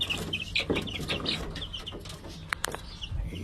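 Hens clucking at a poultry farm in Hawaii, a busy cluster of short clucks and chirps close by, with a few sharp peaks and faint background noise.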